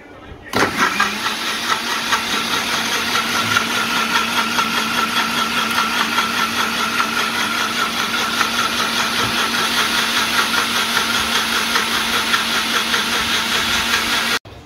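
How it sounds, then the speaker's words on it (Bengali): An electric blender whirs steadily as it blends a chocolate shake with coffee powder, a loud, close, continuous motor drone starting abruptly and running unbroken before cutting off at the end. "এখন আমরা ব্লেন্ড করে নিব।"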